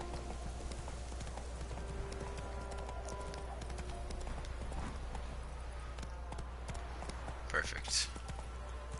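Hoofbeats of the horse Roach in the video game The Witcher 3, a steady clip-clop trot at moderate distance under ambient game sound, with a brief louder rustle near the end.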